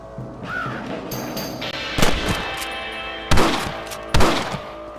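Rifle shots fired at rabbits in the video game Red Dead Redemption: three sharp, loud reports spaced about a second apart, each trailing a short echo over a steady outdoor game ambience.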